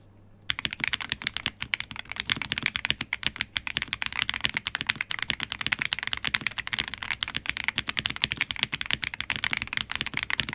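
Fast, continuous typing on a budget mechanical keyboard modified with Dareu switches, close and even, with many softer keystroke clacks running for about ten seconds and no voices.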